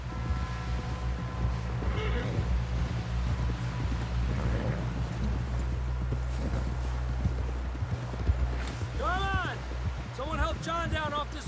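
Horse hooves in the video game Red Dead Redemption 2 give a steady clip-clop under a low ambient hum, with game characters talking over it.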